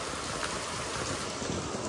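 Steady rain hisses down without a break, a dense, even patter that fills the whole space with no voices.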